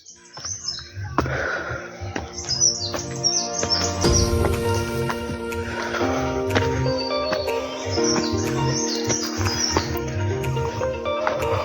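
Birds chirping steadily throughout on a forest trail up to Visapur Fort, bright tweets and calls at moderate distance, with a few background thumps and rustles and no talking.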